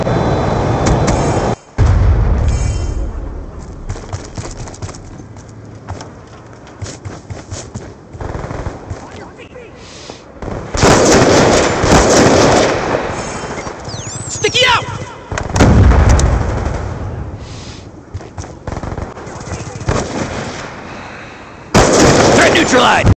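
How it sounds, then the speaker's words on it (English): Heavy explosions and gunfire from the Hellstorm missile strike in the Black Ops II video game, with loud booming blasts and rattling shots layered into a dense, continuous battle din that swells in two big bursts. "Hellstorm missile inbound."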